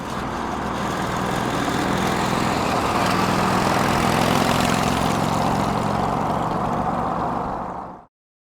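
An old side-valve motorcycle engine runs steadily at close range, a continuous low, throbbing mechanical drone that holds even for about eight seconds before cutting off abruptly.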